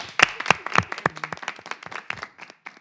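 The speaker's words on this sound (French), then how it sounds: "Alors on applaudit pour tout le monde et pour tous les autres." A small audience at a French broadcast show claps in a short round of scattered, individually distinct hand claps, close and moderately loud, thinning out toward the end.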